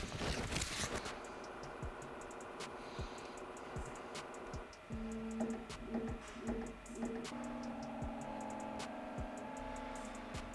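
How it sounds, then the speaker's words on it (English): A Bambu Lab P1S 3D printer runs its self-test routine, giving a close mechanical mix of ticking clicks, whirring motors and short repeated tonal buzzes that shift pattern partway through, with no talking. "let's run the self-test routine to check the status of your printer"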